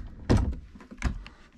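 Drawers in an abandoned log house being pulled open, two solid wooden thunks about three-quarters of a second apart, each trailing into a short scrape and rattle, close by.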